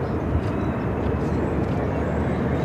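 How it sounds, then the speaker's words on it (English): A Flagship airliner climbs out after takeoff from Phoenix airport, a steady broadband jet roar holding loud and constant throughout. "That Flagship that just took off was the one that was involved in Midway."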